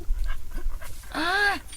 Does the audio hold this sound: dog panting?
yes